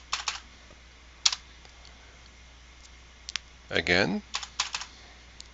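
Rapid keystrokes on a computer keyboard while a password is typed during a Manjaro Linux install, clicking in short bursts up close, with a brief spoken word and a short voiced sound in the middle.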